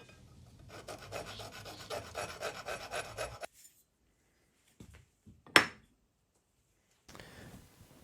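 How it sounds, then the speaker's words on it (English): A metal file rasps across the hacksaw-cut end of EMT steel conduit, a steady scraping stroke for about three seconds, then silence broken by a sharp scrape and a brief final rub, close up and without speech. "Then we'll file it smooth."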